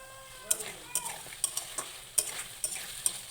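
Bori frying in a pan with potatoes nearby, a steady sizzle punctuated by about eight sharp clinks of a spatula stirring against the pan at a loose, uneven rhythm, close and clear with no talk.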